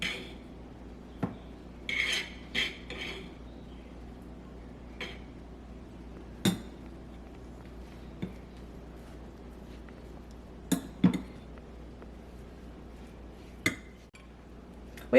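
Strips of top round beef tossed and coated in a dish, heard as scattered dish and utensil clinks and scrapes at close range, a few sharper knocks standing out over a quiet background.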